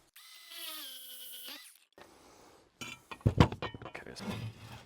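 A power drill bores a hole through a scrap piece of tile during a tub surround job, a short whirring burst followed by rattling, clinking bursts of the bit cutting and grinding, close and fairly loud.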